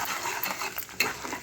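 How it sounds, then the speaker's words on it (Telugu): Dried red chillies crackle and sizzle in plenty of hot oil on medium heat, a dense close frying hiss broken by quick stirring scrapes and one sharper clink near the end. "ఇప్పుడు ఎండుమిరపకాయలు కూడా వీటితో పాటు బాగా వేగిపోవాలి"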